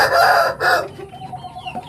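A super jalu rooster, an Indonesian fighting-cock breed, lets out a loud close crow in two strong bursts, then fades into quieter ambient noise.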